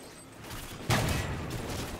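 Gunfire from a first-person shooter video game, fired through a wall: a sudden loud burst of shots about a second in, then a sustained rattling roar with a few more cracks, close and alone.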